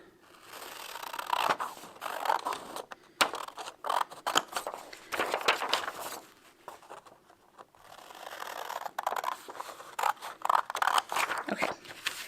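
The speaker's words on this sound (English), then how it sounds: "we're just gonna cut one of these squares off" Scissors cut paper squares for origami, with a series of close, crisp snipping and crunching strokes in uneven bursts and short pauses between them.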